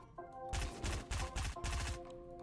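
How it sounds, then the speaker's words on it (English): Rapid gunfire from a double barrel shotgun in a battle royale video game, with about five quick bursts in a row at low volume over a faint background tone. "That's a double barrel shotgun."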